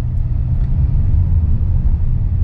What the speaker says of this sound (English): So if I just go gently on the right pedal, you can see the gears will start changing.